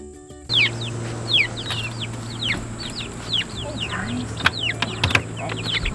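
Hens in a backyard coop calling in the morning, a busy stream of repeated clucks and short chirpy calls throughout, close and fairly loud over a steady low hum.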